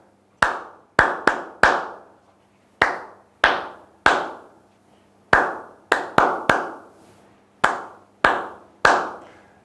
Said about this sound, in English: You can also clap.